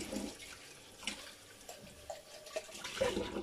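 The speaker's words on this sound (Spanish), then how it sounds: "pero ahora le echo un poquito de agua" Water poured into a thick blended vegetable sauce for braised pork cheeks in Pedro Ximénez, a soft trickling splash with small drips, close and fairly quiet, no talking.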